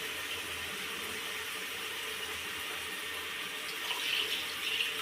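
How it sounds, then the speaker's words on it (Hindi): Tap water runs steadily from a faucet while rice is washed, a close, continuous rushing splash with small sloshing changes near the end and no talking. "ये धो दिए मैंने चावल।"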